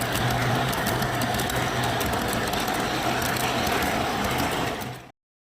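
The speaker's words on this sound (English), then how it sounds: "The train starts and stops smoothly from anywhere in the track" A model railroad train runs along cleaned track with a steady, close whirring rumble and faint rhythmic clatter, continuing evenly for about five seconds before stopping abruptly.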